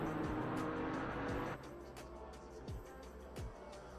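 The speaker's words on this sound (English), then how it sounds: "we do have a couple of drivers passing the start-finish line" GT4 Cup race cars in a sim racing game at Snetterton roar past the start-finish line, loud engine howl at first, then several quick separate pass-bys with falling pitch, no talk.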